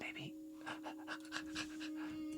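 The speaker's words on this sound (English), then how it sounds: "my excited nerd panting" A person's rapid, excited panting breaths, close and fairly soft, repeating in quick bursts over a steady electronic hum.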